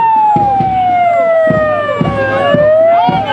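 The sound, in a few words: fire engine and ambulance sirens in a parade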